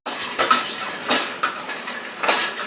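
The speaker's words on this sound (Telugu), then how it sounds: "పెనం పెట్టుకుని ఆయిల్ వేసి పుల్మాకాన్ని అయితే దోరగా వేపుకుంటున్నాను" Phool makhana being pan-fried in oil, stirred with repeated metallic scrapes and clinks of a utensil against the pan in an uneven rhythm, close and moderately loud.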